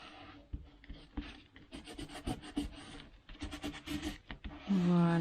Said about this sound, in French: on frotte pour faire adhérer